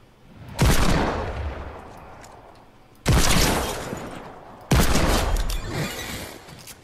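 Three loud, close Desert Eagle pistol shots ring out in a video game, each a sharp crack with a long fading tail, spaced about two seconds apart, with no talking.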